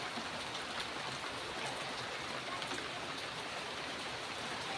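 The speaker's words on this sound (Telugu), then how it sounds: "వర్షం అయితే ఫుల్ స్టార్ట్ అయింది" Heavy evening rain pours down in a dense, unbroken hiss that stays steady and fairly loud from start to finish, with no voices or other distinct sounds over it.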